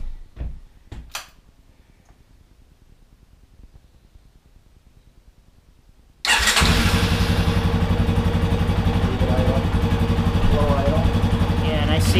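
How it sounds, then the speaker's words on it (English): A 2011 Yamaha XT250 dirt bike sits quiet after a few clicks and clunks, then its engine fires abruptly and settles into a loud, steady, close idle that runs to the end. "We're gonna go ahead and fire the motorcycle now."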